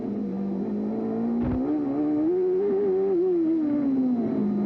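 Emerson Fittipaldi's Indycar accelerates hard down a racing straightaway, a loud, continuous engine note climbing steadily in pitch, then easing off and dropping back near the end.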